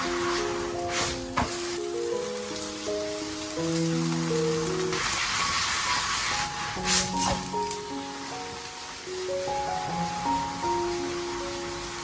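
Egg and seaweed batter pancake frying in a thin layer of oil, giving a soft continuous sizzle and crackle with light, irregular spatters up close, under quiet background music.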